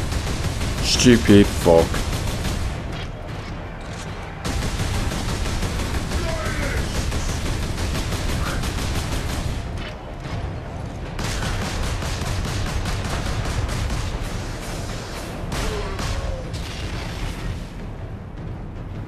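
Sustained gunfire and explosions in the Warhammer 40K Space Marine video game, a dense, continuous roar of shots and blasts throughout, with a man's brief swearing near the start.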